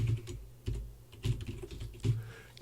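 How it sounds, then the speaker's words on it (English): Fingers typing on a computer keyboard while entering an email address, a few clustered key taps in quick bursts with short pauses between, close and fairly quiet, no voices. "enter in my email address"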